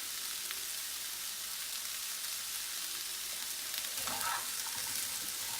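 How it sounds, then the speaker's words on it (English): Onions, red pepper, garlic and chilli frying in a pan for a curry paste, a steady close-up sizzle throughout with a faint stir or scrape near the end. "the 2 large onions, the red pepper, the garlic and the chilli. We're just frying this off."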